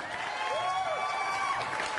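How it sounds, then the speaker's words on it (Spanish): Studio audience applause on a Panamanian TV comedy show, a steady wash of clapping that runs throughout the brief moment while a voice carries over it. "Tíreme el aplauso, señor director"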